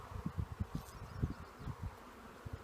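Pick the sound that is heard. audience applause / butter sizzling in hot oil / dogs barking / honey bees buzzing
honey bees buzzing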